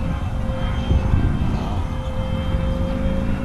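An RC brushless F-117 jet model flies past on its maiden flight, giving a steady loud whirring roar with a sustained tonal whine that holds throughout, with no talk.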